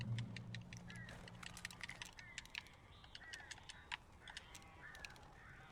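Bird calls in the PC video game Alan Wake (original version): repeated short, bright chirping cries in an irregular rhythm over a steady low background hum.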